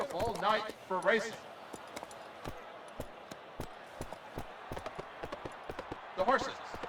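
Galloping horse hooves on a racetrack in the Gallop Racer 2003 video game, a rapid, even run of sharp thuds under a soft crowd-like murmur, with a commentator's voice breaking in at the start and end.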